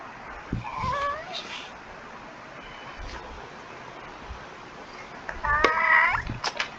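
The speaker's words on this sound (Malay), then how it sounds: "Gangguan kucing." A cat meows twice, once briefly near the start and again in a clearer, longer call toward the end, against a low hum of room noise during a religious lecture session.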